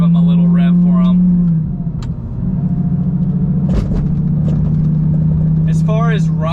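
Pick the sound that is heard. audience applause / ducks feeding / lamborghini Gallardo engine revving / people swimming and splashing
lamborghini Gallardo engine revving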